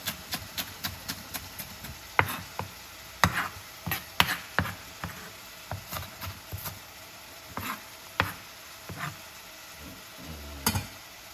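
A knife chops spring onion on a cutting board for a Jamaican steamed callaloo, making close, crisp strikes in an uneven but steady rhythm, sometimes coming in quick pairs, with no talking.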